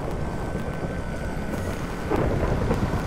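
A thunderstorm in the video game Minecraft, steady rain hissing with a low rumbling swell of thunder that grows louder near the end, a dense, even wash of weather with no voices.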